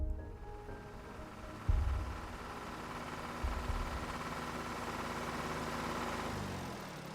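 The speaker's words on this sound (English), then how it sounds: "What the heck is that? A tractor?" A tractor engine runs steadily at a low idle, a deep rumble with a couple of louder thumps near the start, continuing evenly throughout with no talking.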